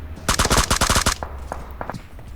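An automatic rifle fires in a shooting video game: a rapid, loud burst of about a dozen close shots, then a few scattered fainter single shots trailing off.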